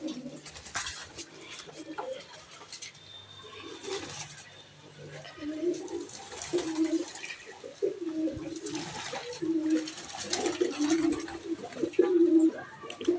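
Pigeons coo repeatedly inside a rooftop net enclosure with a water dish and basket, soft rolling calls close by that grow busier toward the end.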